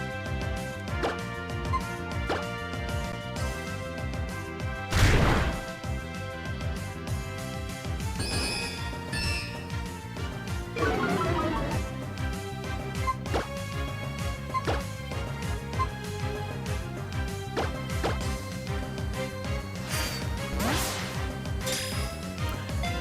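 Pokemon Omega Ruby game audio during a critical catch, with a sharp smash-like hit and whooshing effects over continuous music, mid-level and without talk.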